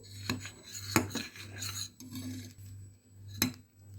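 Faint scraping and clinking of a utensil stirring a lumpy cocoa mixture in a pot, with irregular sharp taps against the metal over a low steady hum.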